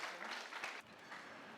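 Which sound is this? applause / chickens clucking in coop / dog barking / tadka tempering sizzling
applause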